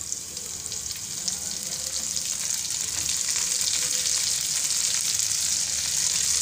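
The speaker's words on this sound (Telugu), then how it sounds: "పచ్చిమిర్చి లైట్గా వేగిన తర్వాత" Green chilies frying in a pan for a Rayalaseema-style cabbage fry make a steady, bright hiss and crackle of hot oil that holds constant and close throughout, with no one speaking.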